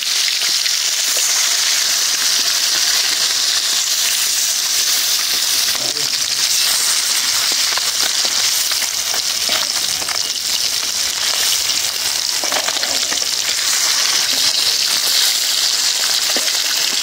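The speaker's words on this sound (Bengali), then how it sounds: "এখন আমি এই যে কই মাছ ভাজা করার জন্য কড়াইটা বসিয়ে দিই।" Koi fish sizzling in soybean oil in a wok, a steady hissing, crackling fry that runs continuously with small pops throughout.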